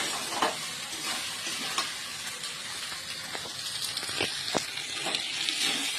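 Eggs cook in a pan for Maggi noodles, giving a soft, steady sizzle broken by several clicking stirs and scrapes of a utensil.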